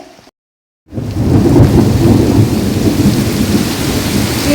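Heavy rain pours down steadily after a brief silent gap, a dense, loud roar of falling water with deep rumbling underneath.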